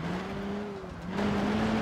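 A car engine in BeamNG.drive, a Ford Courier driven off-road, drones steadily, its exhaust note shifting pitch slightly and swelling louder toward the end.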